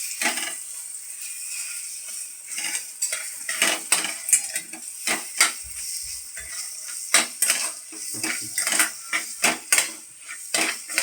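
Ground moong dal being roasted in ghee in a pan for halwa, heard as repeated scraping and clinking of a metal spoon against the pan in an uneven stirring rhythm, close and clear with no talk.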